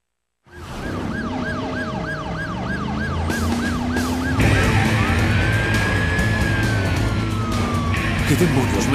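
Ambulance siren in the driving video game Driver San Francisco, a wailing electronic tone looping steadily over engine and traffic noise, joined partway through by a second rising siren sweep as the game scene grows louder.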